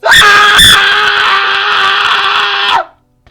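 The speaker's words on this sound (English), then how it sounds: "a loud, inane shrieking rang out in the distance" A loud, sustained, piercing shriek used as a sound effect holds steady for nearly three seconds, then cuts off abruptly into silence, with no speech.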